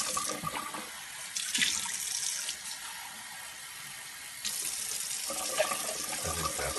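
Tap water runs steadily into a plug-in cooking appliance at home, a continuous close splashing stream with a brief change in flow partway through and no talking.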